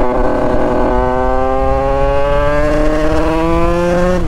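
A Yamaha DT 100cc two-stroke motorcycle revs hard and climbs through the gears, its loud, buzzy engine note rising in pitch continuously and close up, with no voice over it.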